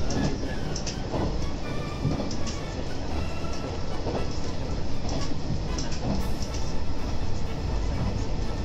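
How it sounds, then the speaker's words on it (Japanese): A Kansai Main Line diesel railcar, an older unrenovated KiHa 120 at Tsuge Station, departing toward Kameyama: a steady, loud engine drone with faint rail clatter, continuous and close. "関西本線の亀山に行く方面の電車が先に出発しました。"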